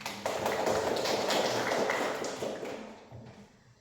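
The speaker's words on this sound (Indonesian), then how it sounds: "Ya, berikan aplaus." A classroom audience at an Indonesian religious education session breaks into brief, steady clapping that fades out after about three seconds.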